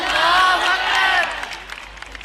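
A crowd at an Islamic gathering chanting takbir (Allahu Akbar) in response, a brief swell of many voices shouting together that peaks and then fades into scattered murmurs.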